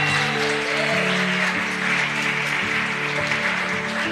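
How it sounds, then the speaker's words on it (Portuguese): Congregation applauding in a church during a Portuguese-language sermon, with steady dense clapping at even loudness and a sustained musical tone beneath it. "Aplauda o Senhor."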